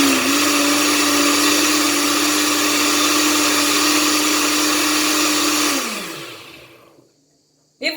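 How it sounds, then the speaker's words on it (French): A blender purees melon and watermelon for sorbet, holding a loud, steady whine for several seconds before winding down to silence, followed by a brief knock. "je ferme le capuchon et je vais mixer"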